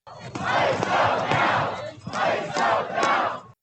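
Protest crowd in Minneapolis shouting in loud, continuous waves, two long surging roars of many voices with a brief dip between them, close and dense.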